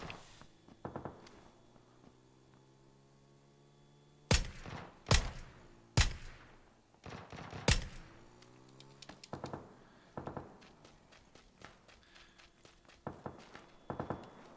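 Gunfire in PUBG on PS4: a few sharp, loud single shots spaced about a second apart, with quieter footstep-like patter and faint game sounds before and after.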